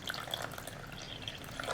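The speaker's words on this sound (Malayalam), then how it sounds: "നമ്മൾ എടുത്തു വെച്ചിരിക്കുന്ന വെള്ളത്തിന്റെ പകുതി ഇപ്പോൾ ചേർക്കുക" Water being poured into flour for Kerala parotta dough, a faint splashing, trickling pour with small watery bubbles and drips, close and alone.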